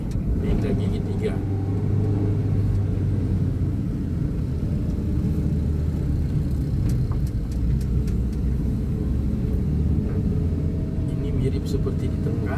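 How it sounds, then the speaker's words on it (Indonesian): A car climbing a steep hill on a coastal road in North Sulawesi after a shift into third gear, its engine a low, steady rumble heard from inside the cabin while a person talks over it. "Menanjak lagi. Pindah gigi tiga."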